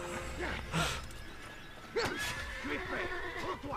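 A horse in the Assassin's Creed video game neighs twice, a loud whinny near the start and another around the middle, with hoof clatter and background game sounds between.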